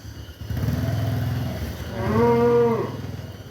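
Year-old fattening bulls for sale, penned together, give a low rumbling moo followed by a louder, higher drawn-out call, close and clear over faint background noise.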